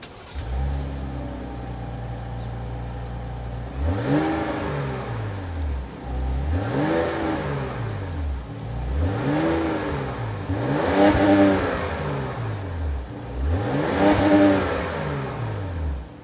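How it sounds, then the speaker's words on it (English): A 2025 Ram 1500 Rebel pickup with a standard-output 3-liter twin-turbo straight-six idles steadily, then is revved four times in succession, each a loud swelling vroom that climbs and falls back, close and with no talk. "that was the sound of the standard output 3-liter twin turbo straight 6 sold by Ram for the 2025 Ram 1500 Rebel"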